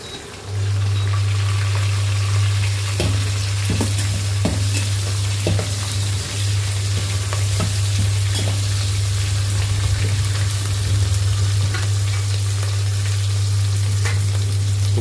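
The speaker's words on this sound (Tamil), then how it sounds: "நல்லா வதங்கிட்டு இருக்குது வெங்காயம்." Onions sauté loudly in a pan, a strong continuous sizzle over a low steady hum from the stove, with occasional spoon scrapes as they are stirred.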